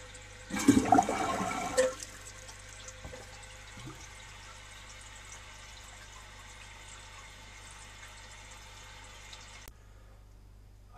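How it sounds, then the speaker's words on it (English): A 1952 Eljer Sylenta toilet flushing, a short loud rush of water for about a second and a half, then a quiet lingering trickle and refill hiss that cuts off near the end. "I probably held that flush valve open for a couple of seconds."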